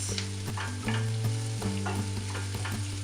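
Vegetables for a garden vegetable frittata sweat and sizzle in a pan over medium to medium-high heat, with a steady crackling fry and repeated stirring scrapes, close and alone.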